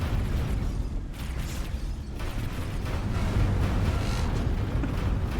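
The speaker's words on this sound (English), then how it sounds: "All right, turrets are engaged." Spaceship turrets fire in a space capitalism video game, giving a dense, continuous rumble of booming, crackling blasts, loud and unbroken, with no talk.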